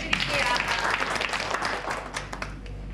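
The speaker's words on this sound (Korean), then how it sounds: "저희 한 분 모셨으니까 우리 박수 좀 부탁드릴게요." An audience claps at a coffee demonstration as a volunteer comes forward, a brief burst of steady applause with a voice briefly audible at the start.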